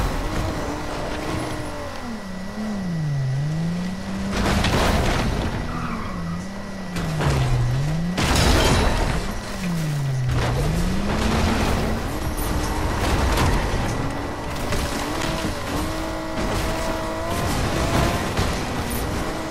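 Car driving with nitro boost in Fortnite, a steady loud engine roar running throughout with wavering pitch sweeps and squealing tires, close and continuous.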